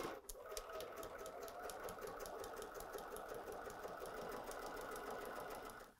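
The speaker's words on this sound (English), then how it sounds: "Today, I will be sewing on my BERNINA 770 QE" A BERNINA 770 QE sewing machine runs steadily for several seconds, its rapid even needle clatter close and continuous before stopping at the end.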